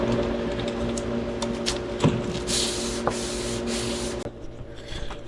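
Steady rubbing and scraping of 400-grit sandpaper on a 12-inch block against a car's surface, a continuous gritty hiss with rhythmic strokes, close and moderately loud.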